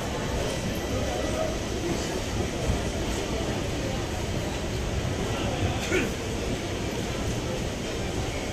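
The Banaras-Gorakhpur intercity express pulls out of a station, a continuous rumbling roar of rolling wheels and carriages, close and fairly loud, with a few faint clanks and a voice speaking underneath.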